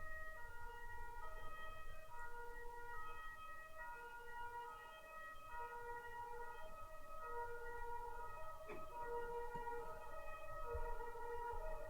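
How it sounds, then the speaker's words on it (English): An ambulance siren wails in a repeating two-tone pattern, faint and steady throughout with no voices over it. "And the ambulance is on its way."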